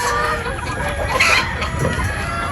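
A flock of pullets and a rooster on a Philippine farm cluck and squawk together, loud and close, with a crowing rooster rising briefly in the middle.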